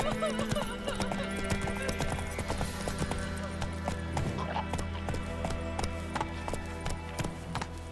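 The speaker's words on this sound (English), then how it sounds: "Come on, Roach." In The Witcher 3 video game, a horse gallops with a rapid, steady clip-clop of hooves and lets out a whinny. The sound is close and continuous over faint background game ambience.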